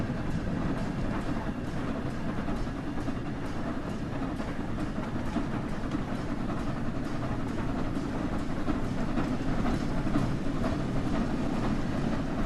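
The Flying Scotsman steam locomotive picks up speed in the video game Train Sim World, giving a steady, dense rumbling chuff and rolling rail noise at moderate level throughout, with no voices.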